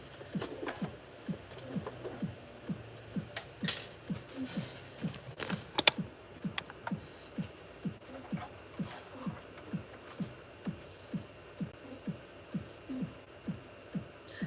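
A sewing machine runs a quick basting stitch along the very edge of fabric while a cosplayer sews a basket bag, with steady rhythmic mechanical clicks repeating about twice a second at moderate level. A quiet voice is faint in the background.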